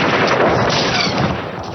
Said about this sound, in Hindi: इस लाइट मशीन गन से निकली गोलियां